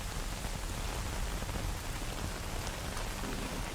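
Steady, dense rain fills the scene in the video game S.T.A.L.K.E.R. Anomaly, an even wash of hissing downpour patter that holds unchanged throughout with no voices.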